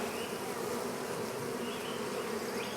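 Honey bees swarming around fresh, soft comb of capped honey in a cat house, a dense, continuous buzzing hum, close and steady throughout with no voices.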